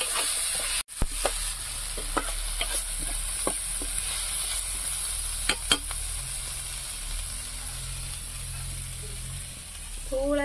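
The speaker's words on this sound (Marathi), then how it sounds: "तर याच्यामध्ये आता मी टमाटर टाकून घेते." Tomatoes hit a hot pan on a wood-fired stove and sizzle steadily, a soft, close, continuous frying hiss broken by scattered clicks of stirring and utensil taps.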